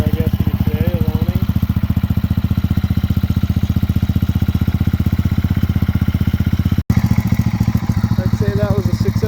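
A Buell cafe racer motorcycle, rebuilt after fire damage, with an air-cooled Harley-derived engine, thumps along in a loud, steady pulsing rhythm close up, a brief dropout partway through, and a rider's voice faintly heard over it.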